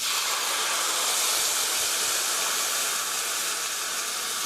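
Milk hits a hot pan of toasted, golden flour, giving a steady, bright steamy hiss that holds loud and even with no pauses.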